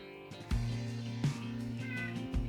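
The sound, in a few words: cat meowing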